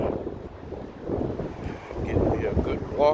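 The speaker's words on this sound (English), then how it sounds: "It's kind of windy out here." Gusty wind buffeting a microphone outdoors during a walk, a fluctuating broadband rush that swells and fades at moderate loudness.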